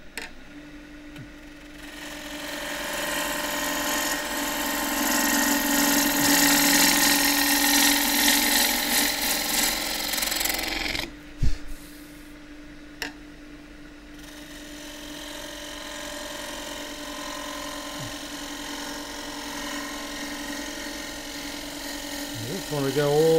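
A wood lathe turns a roughed-out cylinder as a 3/8 bowl gouge takes a shear cut, a steady whirring hum with a brighter scraping cut that rises, fades after a sharp clunk midway, then continues more quietly while someone talks.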